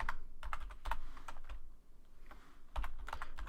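Someone types in quick, uneven bursts on a computer keyboard, close and clear with a short pause in the middle, and no voices.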